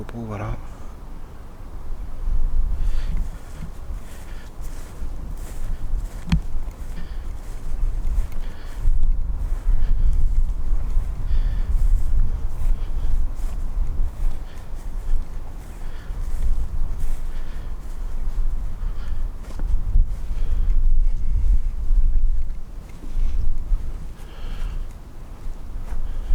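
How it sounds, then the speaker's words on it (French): Strong wind blows outdoors around an old abbey, buffeting the microphone with a constant loud rumble and gusty roar, while a person talks in French throughout. "Il y a du vent, il y a beaucoup de vent."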